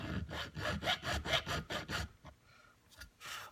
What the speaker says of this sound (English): I'm going to angle the file so I'm filing right on this edge, and I'm making kind of a trench in there.